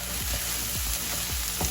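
Finely chopped onions with a pinch of salt fry in a pan for a prawn thokku, giving a steady, close sizzle with soft stirring scrapes and low thumps at a regular pace.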